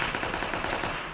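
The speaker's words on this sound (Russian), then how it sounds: "здесь с микроузика отличная стрельба" Rapid full-auto bursts from a Micro Uzi in a video game, a dense, fast rattle of closely spaced shots fired continuously and loudly at close range.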